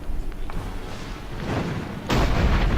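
Cannons fire in the video game Dungeon Siege 3, heavy booming thuds with rumbling low weight, one blast after a second and a louder, closer one near the end, with no talking.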